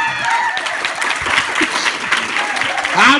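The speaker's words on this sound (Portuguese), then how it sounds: "Quando a piada é boa, pode aplaudir" Audience applause at a drag comedy show during a get-together, loud continuous clapping filling the room, with a voice and some whooping mixed in near the end.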